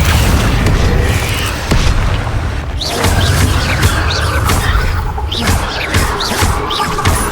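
Confringo explosive spell blasts from Hogwarts Legacy burst repeatedly over a loud, rumbling game soundscape, several sharp booms and crackles scattered across the span without speech.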